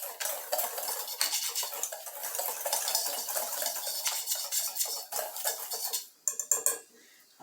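Dried spices being stirred together with metal utensils in a dish, a steady close run of scraping and clinking strokes with a few sharper taps near the end.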